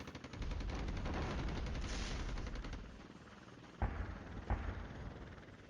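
An F-16 air strike firing missiles in the Cold War wargame Flashpoint Campaigns, a sustained rumbling roar of aircraft and fire followed by two sharp distant impacts, moderately quiet and without talk.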